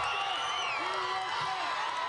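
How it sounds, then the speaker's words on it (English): A pool-deck crowd at a swimming watch party at North Shore Pool cheers and whoops, with excited shouts rising over a steady roar of voices. "The crowd erupted here at North Shore Pool."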